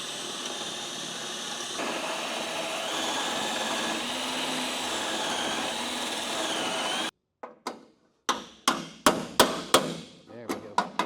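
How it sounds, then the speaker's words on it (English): A power drill bores through car body spot welds in a garage, a loud continuous whine for several seconds, then a burst of sharp, irregular metallic knocks and clanks. "So I got a few more spot welds to drill through."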